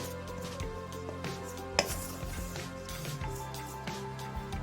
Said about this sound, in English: Then we add our cassava. We give it a mix.